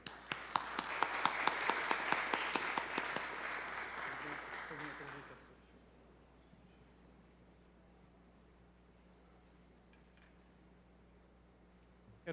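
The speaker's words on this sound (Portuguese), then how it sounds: "Vamos dar uma salva de palmas para ele" A crowd at a formal church-hall ceremony gives a burst of steady applause that fades out after about five seconds, leaving quiet room tone.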